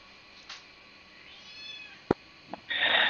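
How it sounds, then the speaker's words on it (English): An agitated cat lets out a few short, scattered cries, then a louder, sustained yowl at the end, heard over faint background hum. "Cat is flipping out."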